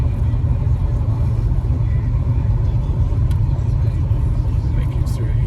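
A 1972 El Camino with a 454 big-block V8 rumbling at low revs on a street, a steady deep throb that stays loud and close for the whole stretch.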